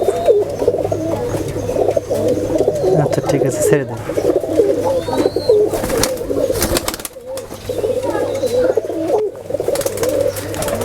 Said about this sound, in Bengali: এটা আপনার রাজশাহী কবুতর অনেক ভালো মানের কবুতর